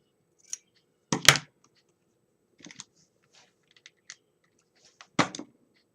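Scissors snipping up the center of paper for a handmade paper rose, heard as two distinct, close cutting bursts with a few faint clicks and rustles between them.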